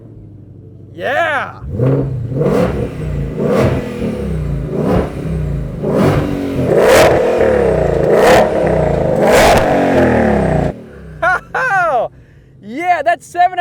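A modern American muscle car rated at 760 horsepower starts up and revs hard several times in loud, rising bursts, with voices talking over and between the revs.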